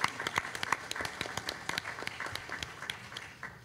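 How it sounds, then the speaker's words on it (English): Scattered clapping at a school board meeting, a quick irregular patter of hands from a modest group, fairly close and steady for a few seconds before thinning out. "So just one more round of applause."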